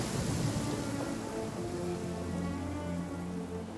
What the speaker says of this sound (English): Taking shelter and listening to the rain cleanse the earth makes me feel...